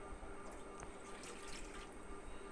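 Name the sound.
water being poured into a pot of oil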